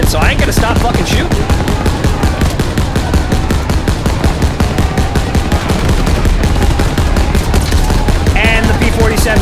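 Dense, continuous automatic gunfire in Call of Duty: WWII, loud rapid bursts of shots hammering without pause throughout, with a few faint voices mixed underneath.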